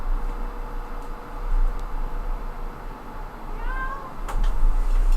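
A cat meows a couple of times against a steady background hum, the calls short and fairly close, with a sharp clatter near the end and no talking.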